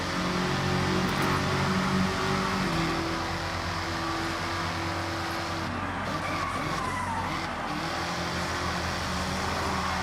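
In a racing video game, a car engine revs hard at high RPM with a sustained, loud drone and a tire skid, heard alone without talk.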